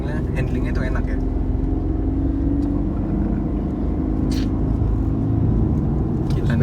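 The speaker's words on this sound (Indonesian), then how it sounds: "Sekarang kita bakal coba handling dari mobil ini." A Mercedes-Benz W204 C200 Avantgarde 1.8 CGI sedan being driven in a handling test, its engine and road rumble a steady low drone inside the cabin, with a few faint knocks and short noises over it.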